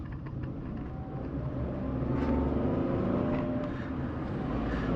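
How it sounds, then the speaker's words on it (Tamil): A Kerala-registered Toyota Innova labours up the steep hairpin Kalhatti ghat road, its engine droning in a loud, steady, strained hum that swells slightly as it climbs. "கேரளா வண்டி KL இன்னோவா திணறுது வண்டி."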